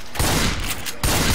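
Rapid gunfire in a zombie video game, two loud bursts of close-range shooting split by a brief lull, with no voices over them.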